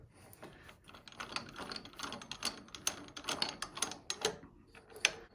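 Wood lathe chuck fitted with spigot jaws being tightened around a 1/2 inch dowel, giving a rapid run of close, loud ratcheting clicks with short pauses between bursts.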